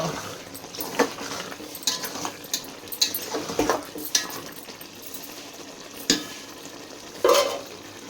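Spoon stirring tamarind juice and cooked chana dal paste in a pan, with repeated scraping strokes at an uneven rhythm and a couple of sharper clanks against the metal.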